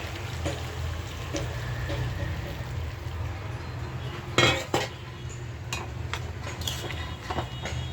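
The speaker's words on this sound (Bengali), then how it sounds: "গরম জল দিয়ে দিই।" Hot water is poured into a cooking pot of braised meat, producing a steady close rush of liquid with a few metallic clinks of a utensil against the pot partway through, and no voices.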